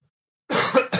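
A man coughs a few times in a short burst after a moment of silence, close and fairly loud, with no talking.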